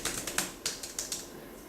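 Typing on an i-Connex Combi keyboard: a quick run of light, crisp key clicks in an irregular rhythm, close and fairly quiet, then a short pause near the end.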